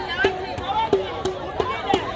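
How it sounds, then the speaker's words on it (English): Crowd of about 500 women protesting against military presence in Ekona, Cameroon, a steady outdoor hubbub of many voices with scattered louder shouts rising above the murmur. "I think we have a crowd of about 500 women gathered here all the way from Ekona"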